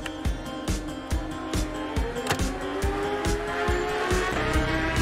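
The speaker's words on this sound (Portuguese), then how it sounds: "Com a nossa moto Honda." Honda race motorcycle in the video game TT Isle of Man Ride on the Edge 2, its engine droning steadily with rhythmic gear-shift pulses and tire noise over about five seconds, under faint game sounds.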